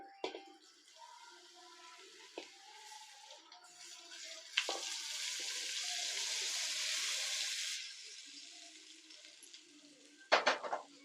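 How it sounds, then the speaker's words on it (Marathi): Hot oil hits a spice mix for amla and green chilli pickle with a sudden hissing sizzle that holds for about three seconds and fades, framed by soft clinks of utensils. "आता हे तेल आपल्याला या मसाल्यामध्ये टाकायचे."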